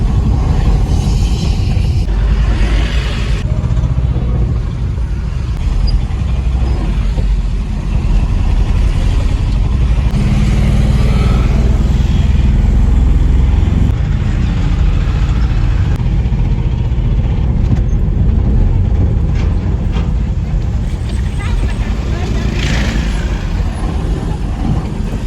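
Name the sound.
loaded truck driving on the road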